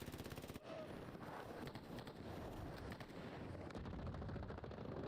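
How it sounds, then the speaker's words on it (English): A PPSh submachine gun with a drum magazine fires in Hell Let Loose, rapid sustained bursts of automatic fire mixed with other distant gunfire across a battlefield, faint overall. "Using his PPSH with the drum mag."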